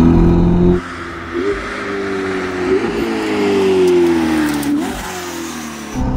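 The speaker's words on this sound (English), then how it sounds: "the lovely thing about these engines is that you really hear the turbos spooling" Ferrari SF90 Spider with a Novitec exhaust revving hard, a loud close engine note rising and falling in pitch through several pulls with turbo spool audible, no talking over it.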